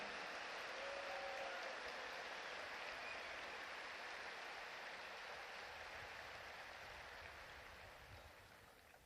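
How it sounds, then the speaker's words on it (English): A large crowd at the West Point military academy graduation ceremony applauds in a dense, sustained roar of clapping that holds steady and then slowly fades toward the end. "how about a round of applause for the class of 1967 and their outstanding dedication"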